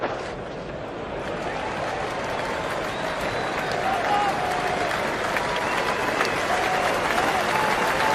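A cricket crowd applauds Steve Smith's innings with steady, broad clapping that holds at an even level throughout, a wash of many hands spread across the ground.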